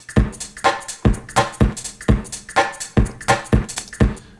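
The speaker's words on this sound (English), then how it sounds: "So this is the drum." A looped drum beat thumps along at a steady tempo, with punchy kicks and snappy hits repeating evenly, up close and without any voices.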